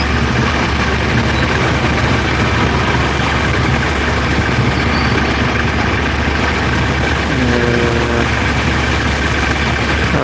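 A car engine idling at a red light on a city street in Hyderabad, a steady loud low rumble that runs continuously without breaks, heard close by.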